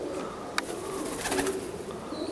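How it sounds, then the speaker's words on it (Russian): Pigeons coo softly in low, murmuring notes within a busy outdoor bird enclosure, the calls partly buried under steady background noise and a sharp chirp or click. "здесь голуби находятся"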